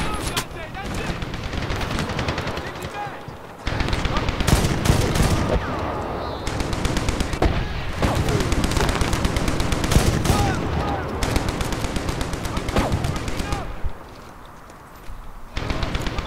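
Gunfire in the shooter Medal of Honor (2010), sustained automatic bursts and heavy shots across the whole stretch, dipping quieter near the end, with a voice talking over parts of it.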